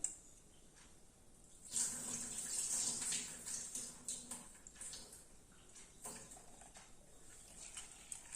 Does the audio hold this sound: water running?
yes